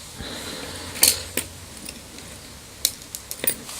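Small metal screws rattling and clicking while being handled during an assembly job, a few sharp light clinks scattered over quiet background, no talking.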